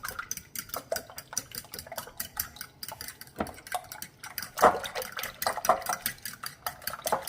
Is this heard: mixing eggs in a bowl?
yes